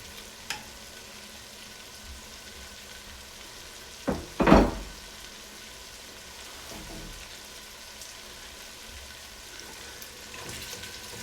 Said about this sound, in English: all the beef that's cooking in the pot